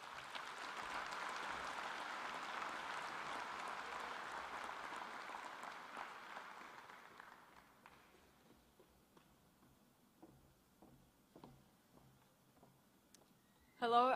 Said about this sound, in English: Please welcome Chelsea with a warm round of applause.